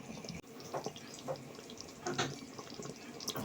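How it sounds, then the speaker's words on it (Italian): Wild boar sauce simmering in a pot for gnocchetti sardi, giving a steady bubbling and gurgling with soft wet pops, close and moderately quiet. "Guardate come sobbolle."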